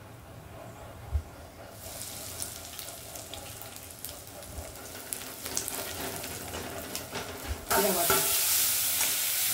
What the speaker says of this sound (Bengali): আর এখানে ফোড়নটা হচ্ছে